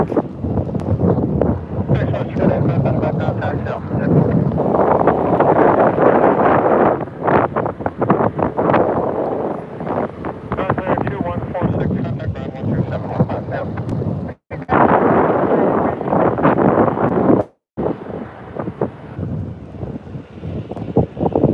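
Wind at an airport roars and buffets the microphone loudly and continuously, with gusting surges and brief dropouts, and some speech is mixed in.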